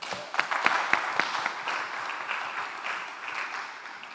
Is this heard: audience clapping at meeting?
yes